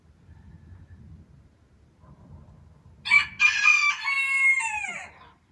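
A rooster crows once loudly and close by, a long drawn-out call that rises and then trails off, after a few seconds of quiet low rumble in a calm indoor room.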